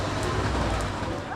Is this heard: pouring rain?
yes